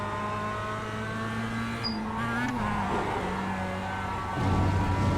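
Mazda MX-5 Cup race car engine in the iRacing sim at Lime Rock Park drones steadily at moderate volume, shifting pitch as the car brakes and accelerates through corners, with a brief squeal and a rise in revs near the end.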